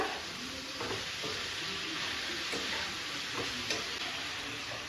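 Onions and tomatoes sautéing in a pan, a soft continuous sizzle with occasional stirring scrapes and taps, close and fairly quiet, with no talking.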